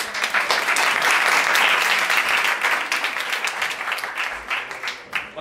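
A large audience applauds loudly and steadily at an event, a dense sustained wash of clapping that swells early then gradually thins toward the end.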